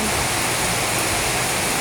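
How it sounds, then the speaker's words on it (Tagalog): Continuous heavy rain pours down as a dense, steady roar with no breaks or voices. "Di na huminto yung ulan dito."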